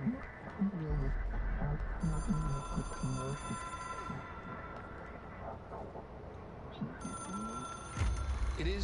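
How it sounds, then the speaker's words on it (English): A telephone rings in the video game Control, its bright repeated electronic tones arriving in two bursts over a dense game soundscape, with someone talking through it. "I have to answer that phone!"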